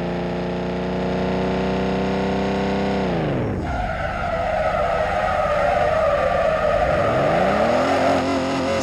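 A Range Rover Evoque is being drifted: the engine roars steadily, drops sharply in pitch, then gives way to a long, loud tire skid and a revving engine climbing again.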